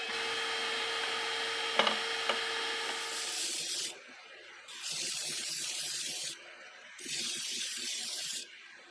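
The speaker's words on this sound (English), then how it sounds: "I'm just fine tuning the fit with a little sanding here and there." Camphor laurel wood trim is hand-sanded in three long, even strokes, each a soft rasping hiss with short pauses between, following some faint clicks and knocks.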